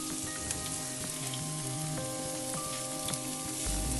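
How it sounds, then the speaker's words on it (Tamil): Chopped onion frying in hot oil for a quail egg gravy, a steady close sizzle with faint clinks of a stirring spoon, growing louder near the end as more onion hits the pan. "நம்ம பொடியாக கட் பண்ண வெங்காயம் ஒரு கையளவு இதில் போட்டுக்கலாம்."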